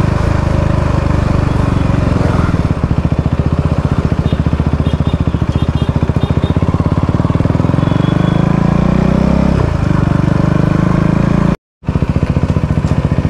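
Steady drone of a motorcycle engine at riding speed, loud and continuous with wind rumble, the pitch shifting slightly, with a momentary cutout near the end.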